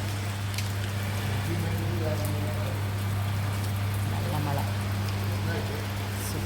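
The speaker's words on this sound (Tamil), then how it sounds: "இன்னும் மழை லேசாக தூரிட்டு இருக்கு" Soft, steady patter of light rain over a constant low hum, with scattered drips throughout.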